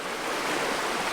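A flowing stream in a swamp near abandoned coal mines rushes steadily as a loud, close, continuous wash of water, with no voices.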